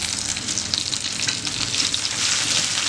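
Chutney ingredients with jaggery are sautéed in a pan on a stove, producing a loud, continuous close sizzle with faint stirring noises and no talk.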